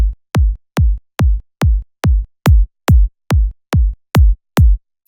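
Kick drum rebuilt with the Drum Clone plugin, a dozen evenly spaced deep thumps with a falling pitch sweep, loud, dry and isolated in a steady rhythm.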